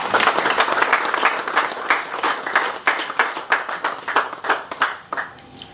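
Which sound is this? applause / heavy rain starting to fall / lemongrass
applause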